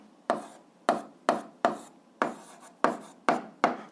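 A pen writes out the answer to an 8th-grade algebra exercise in eight distinct strokes, close and crisp, evenly spaced and alone without talk.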